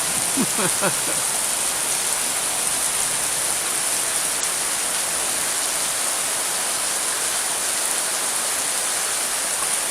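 Heavy jungle rainstorm, a dense, loud, steady roar of rain with hiss across the whole range, unbroken and close, with a brief low sound near the start.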